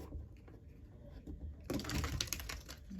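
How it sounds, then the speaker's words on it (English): A quick riffle of tarot cards being shuffled up close, a dense burst of papery flicking after a brief quiet rustle. "All right, one more shuffle."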